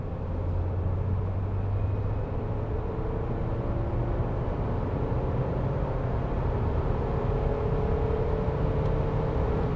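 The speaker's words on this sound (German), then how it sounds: "habe ich gerade Gas gegeben im dritten Gang und dann haben wir irgendwann die 100 erreicht" A Suzuki Ignis with an 83 hp engine accelerating in third gear, heard as a steady loud engine drone and road rumble from inside the cabin, continuous throughout with a faint rising tone and no talking.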